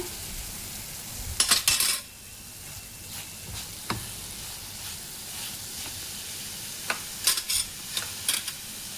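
Grated coconut, jaggery and cardamom powder being mixed in a hot pan, with a faint hiss under a few sharp clusters of spoon scrapes and clinks against metal, quiet between strokes.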